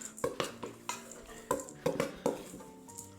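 Chopped almonds being stirred into a crumbly shortbread mixture in a bowl, a series of sharp clinks and scrapes from a spoon against the bowl in an irregular rhythm, close and fairly quiet.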